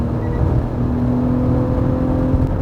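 Steady, muffled six-cylinder engine drone with a sustained tonal hum, a car cruising at high revs heard from inside the cabin, constant and moderately loud.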